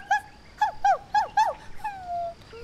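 A little dog gives a quick series of high whimpering yips, several short cries in a row ending in a longer drawn-out whine. The cries are close and clear against a quiet background, with no speech.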